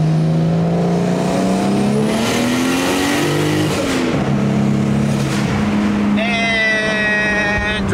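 A 700hp BMW 335i engine held at partial throttle, droning in a steady rising and falling rev near the microphone, with a brief higher whine near the end.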